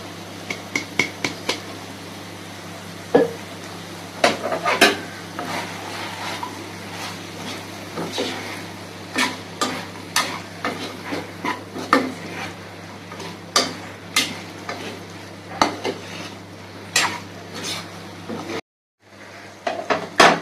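Chicken with ground masala stirred in a kadai, a spoon scraping and knocking against the metal in quick irregular clinks and taps throughout, close and fairly loud, with a brief break near the end.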